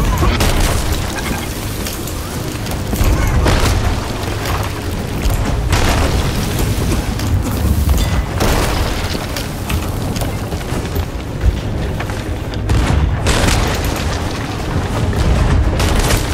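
Continuous loud booming and blasts of ship cannon fire in a Sea of Thieves naval battle, dense and relentless, with no pause throughout.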